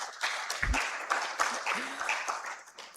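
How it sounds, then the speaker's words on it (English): Applause at a project report and dashboard launch event for Akwa Ibom State, a modest, fairly faint patter of clapping with voices underneath. "let's also give another round of applause for Akwa Ibom State"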